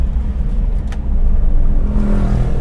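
Toyota Kijang Super engine running during an emission control test: a steady, loud, close low rumble that swells slightly partway through as the revs rise, with no talking.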